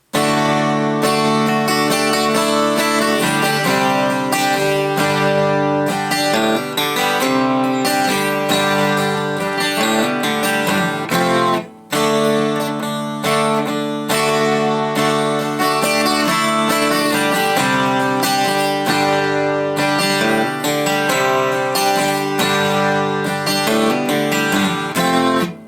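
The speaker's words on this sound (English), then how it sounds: "For the verse, we're going to do some strumming of some basic chords and then some nice little" Acoustic guitar strumming the verse chords of a song, a steady full-bodied pattern with small embellishments, close and loud throughout with one brief break near the middle, no talking.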